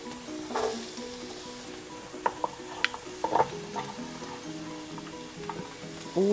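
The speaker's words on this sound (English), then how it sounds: "I'm gonna go ahead and add the rest, which is carrots and celery" Carrots and celery land among onions frying in a pan, setting off a steady quiet sizzle broken by scattered clicks and clacks of utensils stirring, with a louder scrape at the end and no voices.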